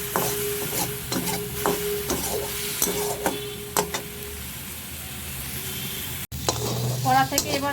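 Shrimp cook in a little water in a kadai, with a stirring scrape and a soft bubbling sizzle that fades, then a brief clatter near the end.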